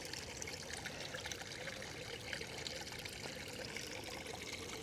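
A small mountain spring trickles and splashes steadily, a faint, continuous watery hiss with no voices.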